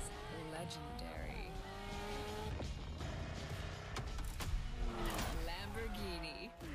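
A Lamborghini revs through The Crew Motorfest, its engine note rising and falling in loud sweeping pitches with tire squeal, sustained and close throughout.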